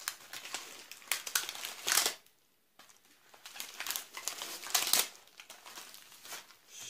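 Plastic parcel packaging from AliExpress crinkles and crackles in close, irregular bursts as it is opened and unwrapped, with one short pause of near silence midway.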